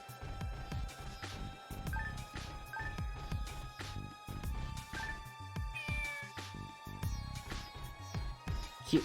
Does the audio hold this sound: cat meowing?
yes